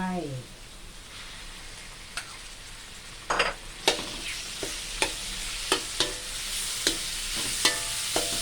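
Sliced pork sizzling and stir-frying in a hot pan with chili, garlic and salt, with a continuous hiss broken by sharp scraping clatters of a utensil against the pan at a steady rhythm.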